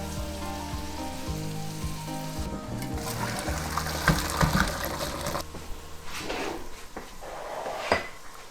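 Boiled baby potatoes drained from a pan, a rushing, splashing pour of water with clattering pot and lid knocks, fairly close and steady over several seconds.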